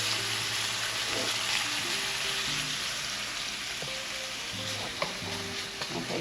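Bacon fries in a pan with a loud, constant sizzle and crackle, heard up close over several seconds with faint low background tones and no speech.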